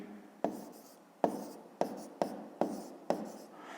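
A pen writes down an answer to a fifth-grade math exercise, making six sharp scratchy strokes at an uneven rhythm, close and fairly crisp.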